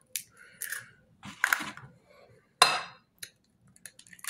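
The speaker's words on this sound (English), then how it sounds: "for the egg wash, you wanna go ahead and crack your eggs open" Eggs being cracked open into a bowl for an egg wash, a few sharp cracking taps followed by shell and liquid sounds, close and distinct against quiet.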